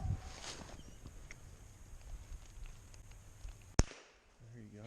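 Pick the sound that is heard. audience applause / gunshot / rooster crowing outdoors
gunshot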